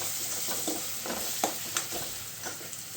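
Spice masala stirred into onions frying in a pan gives a steady sizzle with a few soft scraping stirs of a spoon, close and fairly quiet, with no talking.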